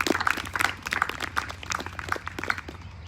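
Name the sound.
audience applause for a scholarship award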